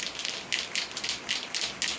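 Steady rain falls on a rainy day in Tennessee beside an old shed, a continuous close hiss with uneven patters of heavier drops.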